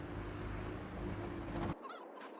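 Farm chickens cluck and murmur close by in a steady flock chatter, which cuts off abruptly near the end, leaving faint background noise.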